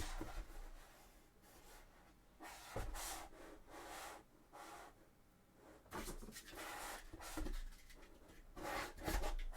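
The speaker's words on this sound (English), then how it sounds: "Do need to sand this a little bit more." A Warhammer 40K Sisters of Battle miniature's thigh armour is sanded by hand in uneven bursts of soft, close rasping strokes, with brief pauses between passes and no talking.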